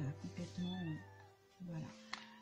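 A small cat gives a few soft, high meows near the microphone while a person talks quietly over and between them.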